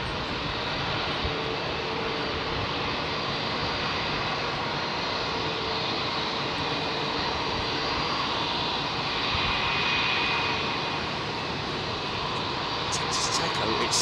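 A jet airliner at London Heathrow Airport roars steadily and loudly throughout, a broad continuous engine rumble with no break, as if passing close by.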